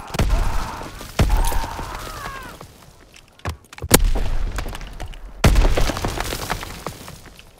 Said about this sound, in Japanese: 粘着爆弾を投げる。